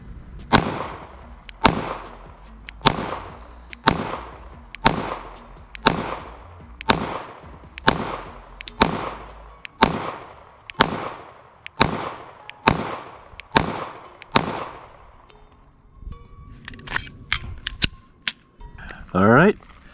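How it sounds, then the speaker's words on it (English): Fifteen sharp pistol shots from a Glock 43X MOS fired one after another at a target at a steady pace, loud and close, followed by a little quieter handling noise at the end. "I shot 15 rounds"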